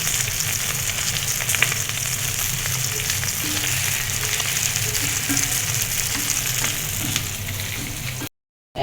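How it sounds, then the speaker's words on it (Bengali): Rohu fish frying crisp in hot oil in a home kitchen, a steady dense sizzle and crackle running close and loud throughout before cutting off abruptly near the end. "মাছটা একটু মশমশা করে ভাজা না হলে আমার ভালো লাগে না।"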